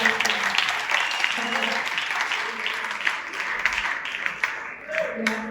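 A church congregation applauds during a Sunday service, with sustained, dense clapping from many hands filling the room while a voice speaks over it.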